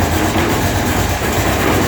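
Running boards on a running vehicle rattling hard: a loud, dense, continuous rumble and clatter that stays close and steady throughout, with no voices.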